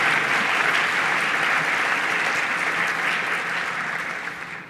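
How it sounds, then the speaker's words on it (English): Warm, continuous applause fills the hall at a law school awards event honoring public-interest grants. The dense clapping holds steady, then tapers off at the end. "That deserves applause."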